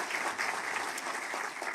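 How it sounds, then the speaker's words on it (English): Crowd applause for Governor DeSantis at a political event, a brief, steady wash of clapping from many hands at moderate distance. "Let's give another round of applause for Governor DeSantis."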